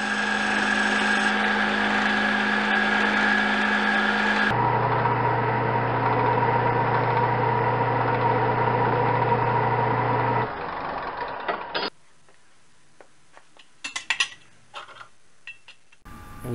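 Small 2x42 belt sander bought secondhand, flat grinding a knife blade: a loud, steady motor whine with a strong hum shifts pitch as pressure changes, then cuts out, leaving quiet clinks and light handling noises.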